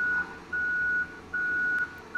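A truck in the Farming Simulator 2017 video game sounds its reversing alarm, a steady high electronic beep repeating at a regular pulse over a low engine hum, close and clear with no talking.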